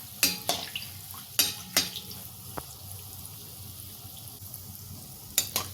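Khoya gulab jamun frying in oil over a low gas flame give a soft, steady sizzle, broken by a few sharp clinks of a utensil nearby.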